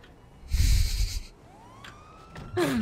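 Police car siren in the video game GTA Online: a short rising siren wail sounds after a brief engine burst, then a louder siren blast cuts in at the end.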